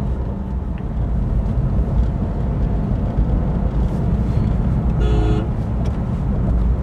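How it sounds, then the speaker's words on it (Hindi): A car gathering speed on the road, its engine and tyre roar rising steadily, with a brief horn toot near the end; continuous and fairly close, no voices. "जैसे अभी थोड़ा सा जोर पकड़ते हैं अपनी गाड़ी को, मोमेंटम थोड़ा अच्छा खासा बनाते हैं"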